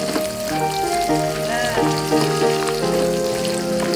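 Garlic frying in a pan for pork dinuguan gives a steady, close sizzle that runs through the whole stretch, with a sustained tonal background underneath.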